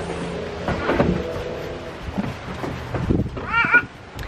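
Young buck goat kid in a barn giving a short, wavering bleat near the end, moderately loud and close, over rustling and shuffling noise.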